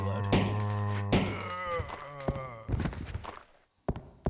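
A gun being reloaded in the 1998 survival horror game Resident Evil 2, played on Dreamcast, makes a few sharp mechanical thunks and clicks over game music and tones. Someone talks briefly.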